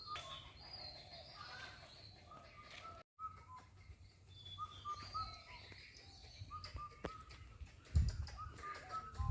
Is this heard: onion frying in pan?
no